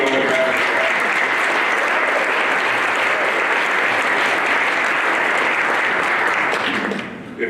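Sustained applause from the audience at a 2015 Hall of Fame speech honoring Joan, steady and loud clapping that holds evenly before tapering off at the very end.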